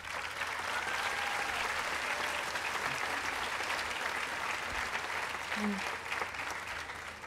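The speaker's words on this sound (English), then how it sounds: "give yourselves a round of applause" Graduates applaud at a 2018 MassBay Community College commencement, a dense, steady wash of clapping from a large crowd that holds for several seconds before thinning slightly at the end.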